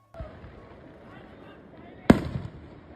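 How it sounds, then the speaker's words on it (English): New Year fireworks in Orlando: one sharp distant pop, then a loud close bang with a crackling tail, over faint background noise. "This here is happening in Orlando while the fireworks go off for the new year."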